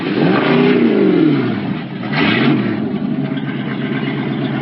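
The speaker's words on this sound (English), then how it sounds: "all of these old boats start their engines up once again" Several old wooden boats at a lakeside antique boat show start their engines together, a loud, dense rumble of overlapping motors revving up and down and settling into a steady throbbing idle.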